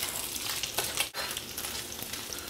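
Bacon sizzles in a pan with its rendered fat spreading across the surface, a steady, fairly quiet crackle that briefly drops out for a moment midway.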